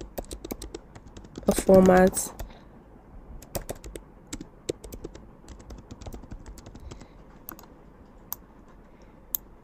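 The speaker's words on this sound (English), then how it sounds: "Just click T on your keyboard and give it top" Clicky typing on a computer keyboard while entering a title in a Figma dashboard design, a quick run of close key taps continuing sparsely after a brief spoken word.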